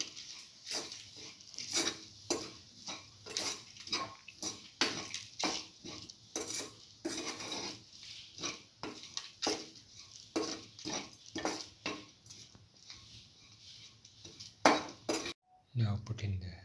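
Salt being stirred into an onion, coconut and tamarind dip, a steady run of close spoon and dish clinks and scrapes that continues for most of the stretch, then stops abruptly near the end.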